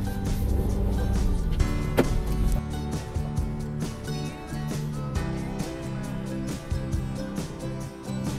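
A car driving on the left-hand side of British roads toward Alnwick Castle, heard as a steady, loud engine and road rumble that holds throughout, with a few sharp clicks and knocks and no talking.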